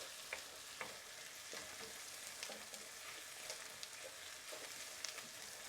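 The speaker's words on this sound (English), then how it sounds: "let this come to a nice little bubble, and these are cooking wonderfully" Onions fry in oil with garam masala for a chicken biryani, a faint, steady crackling sizzle with scattered small pops and occasional stirring, heard alone.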